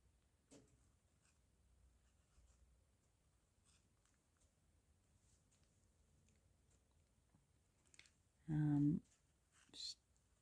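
A pen drawing petals in an art journal makes soft, faint scratching strokes up close in a quiet room, followed near the end by a couple of brief vocal sounds.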